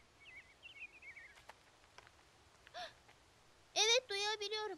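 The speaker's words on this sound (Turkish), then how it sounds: "Büyük annesi Kayu'yu o gün kuşları izlemeye götürüyordu." Small birds chirp outdoors in a cartoon scene, a few quick twittering calls early on, faint and brief, followed by a child's and an adult's voices speaking.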